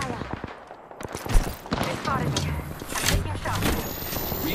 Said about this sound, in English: Taking fire. They spotted me. I'm taking shots.